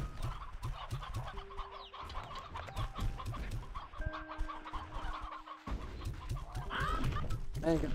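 Roosters cluck in the Slime Rancher 2 video game, a busy run of short clucks and squawks set over steady game music with bright synthetic tones, continuous throughout.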